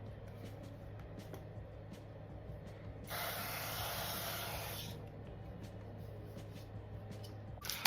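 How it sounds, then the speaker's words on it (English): Cooking spray hisses from a can onto the bottom of a cake pan in one steady burst of about two seconds, close and fairly loud over a quiet room hum. "take some cooking spray or some butter and spray the bottom of it"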